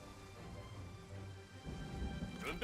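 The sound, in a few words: rain in the video game Total War: Three Kingdoms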